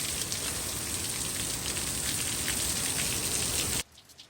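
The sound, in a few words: rain falling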